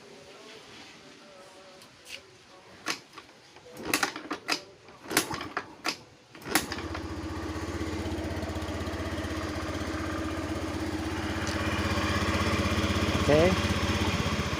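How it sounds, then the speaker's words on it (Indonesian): Automatic scooter engine started and running steadily after a few sharp clicks and knocks, a continuous low drone close by, with a brief spoken word near the start. "kita hidupkan motornya."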